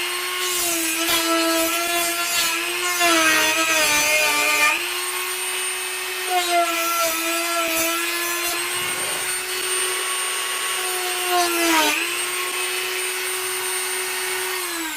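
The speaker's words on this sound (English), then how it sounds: "Now the Dremel does leave a rough edge because it does melt the plastic." A Dremel rotary tool cuts through a plastic ammo box, its high steady whine holding a strong tone with shifting harmonics, pitch dipping briefly as the bit bites and melts the plastic, loud and close throughout.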